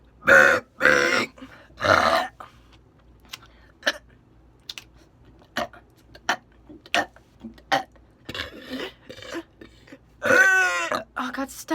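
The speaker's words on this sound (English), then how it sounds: "Belch, burping." A person belches in public with several loud close burps, the first at the start and a long one near the end, separated by quiet clicks and short grunts.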